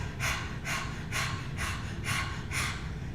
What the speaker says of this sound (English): sticking out our tongue, panting like a dog